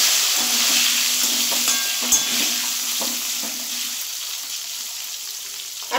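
Diced potatoes sizzle steadily in hot oil with a pinch of asafoetida in a pan while being stirred, with a few light scrapes and clinks of the spoon against the metal, close and continuous throughout.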